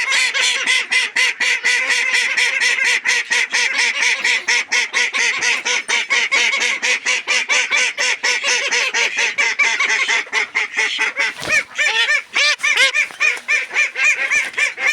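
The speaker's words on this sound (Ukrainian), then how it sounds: "Ось такі качечки малесенькі трішки менше від диких." Miniature ducks, young birds slightly smaller than wild ducks, quacking loudly and continuously as a close flock, their rapid overlapping calls filling the whole stretch without speech.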